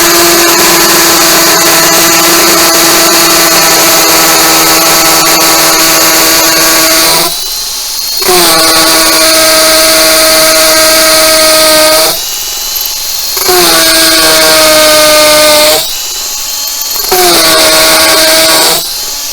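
A power drill bores holes in a wall for an EV charger cable holster, a loud whining drone that cuts off and restarts three times as the bit backs in and out, with no talking.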